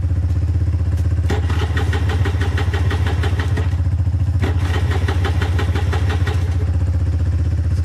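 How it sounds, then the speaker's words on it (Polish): A Vital Jet scooter's small engine fires up and idles with a steady rough chugging throb, with clattery revving bursts rising twice over the running idle. "Jak myślisz, że odpali mi skuter? Vital Jet?"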